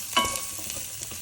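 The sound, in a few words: carrots stir-frying over high heat for pork satay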